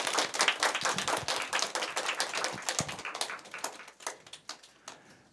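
Applause from a church congregation at a Sunday worship service, a moderately loud burst of many hands clapping that thins out into scattered claps and fades.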